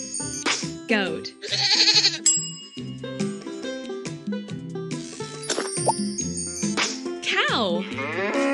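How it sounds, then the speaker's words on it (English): A goat bleats over bright, busy children's music with chiming bell-like tones, its wavering call rising briefly out of the cheerful backing. "Goat."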